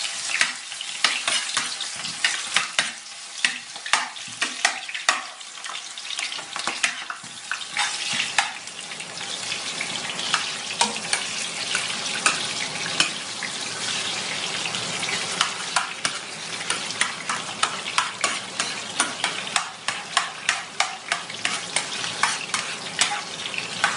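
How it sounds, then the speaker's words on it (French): Onions dropped into hot oil crackle and sizzle loudly and steadily, with dense popping and frequent sharp spatters continuing close by for the whole stretch. "L'huile est prête, je mets mes oignons."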